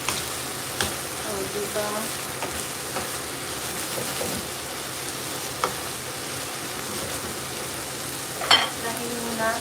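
Food sizzles steadily in a pan while it is stirred, with occasional scrapes and clinks of a utensil in the foreground. Someone talks briefly over the frying.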